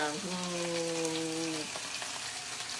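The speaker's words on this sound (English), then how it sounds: "see how the lobster's sizzling?" Steady crackling sizzle of lobster frying in a pan, close by, with a sustained humming tone over it for the first part.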